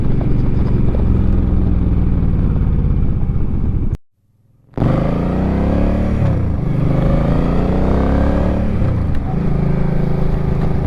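A Harley-Davidson motorcycle cruises in fifth gear at about 60 mph with a loud, steady engine drone and rushing wind, broken by a brief dropout, then wavering slightly in pitch as the ride continues.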